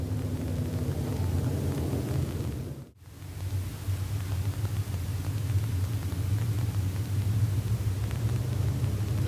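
Late model race cars circle an off-road dirt speedway, giving a steady, loud, broad engine rumble that dips briefly near the start and then holds strong to the end, with no talk over it.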